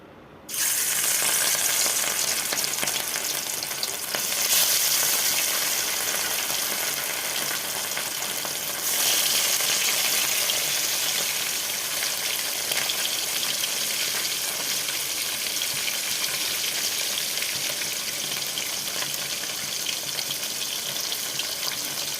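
Fish drops into hot oil in a wok, bursting into a loud, steady sizzle and crackle that holds for over twenty seconds without speech.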